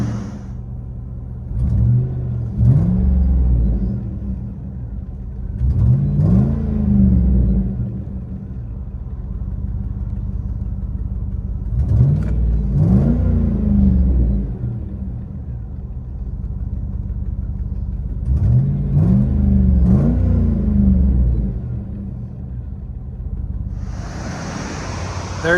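A 2007 Chevy Tahoe with a 5.3L V8 and Flowmaster Outlaw exhaust, heard from inside the cabin, idles with a low rumble broken by three or four deep throttle revs that swell and fade.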